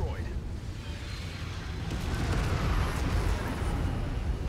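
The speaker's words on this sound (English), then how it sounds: "there's one airstrike coming in" Airstrike explosions in the mech combat game MechWarrior 5: Mercenaries roll together into a steady, rumbling wash of deep booms, moderately quiet and sustained without clear breaks.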